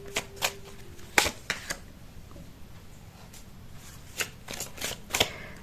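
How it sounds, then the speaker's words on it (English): Tarot cards being shuffled by hand in a quiet room, a run of crisp riffling snaps and soft slides coming in uneven bursts, close and fairly faint, with no talking. "when I was shuffling the cards"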